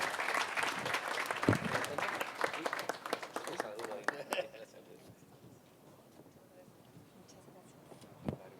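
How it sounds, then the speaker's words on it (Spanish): Applause from the audience at a human rights journalism awards ceremony, loud dense clapping for about four seconds that thins out, with a voice speaking over it. "Un fuerte aplauso, por favor."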